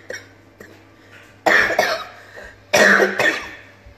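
Two sharp, harsh coughs indoors, each a sudden burst followed by a shorter rasp, with a quiet pause and soft breathing sounds between them.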